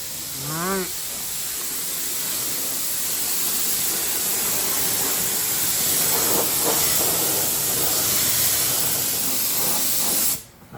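Spray-on rust protective coating applied to a rusted Toyota truck frame, a steady close hissing spray that runs nearly unbroken for about ten seconds before cutting off abruptly.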